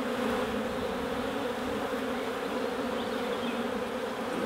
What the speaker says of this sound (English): it's pretty well jammed with bees